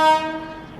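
A train horn sounds as a slow train overtakes the Danapur Secunderabad Express, a single brief, loud, tonal blast that quickly fades.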